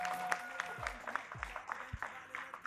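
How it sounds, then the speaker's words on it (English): Scattered clapping for a cricket player at a GEPL match ceremony, faint and uneven with a few sharper claps and low thumps mixed in. "A big round of applause to Sajanpreet from Mumbai Grizzlies"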